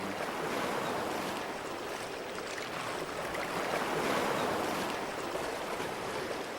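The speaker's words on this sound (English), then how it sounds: "The waves here are calmer, a little bit more serene." Gentle sea waves washing onto the shore at Samcheok, Korea; a soft, continuous wash of surf with slow swells, steady and moderately close, no voices.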